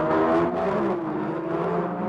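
Drag race cars roar loudly off the line at the 1975 NHRA World Finals, a six-cylinder Ford Pinto against a heavy V8 car, their engines blending into one dense, sustained rumble.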